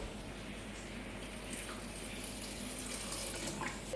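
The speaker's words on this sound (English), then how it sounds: "Now the recipe is asking to add 100 grams of water" Water, 100 grams of it, pours steadily into a quince jam cooking machine over blended quince for Portuguese marmelada, a continuous close splashing stream that swells slightly toward the end.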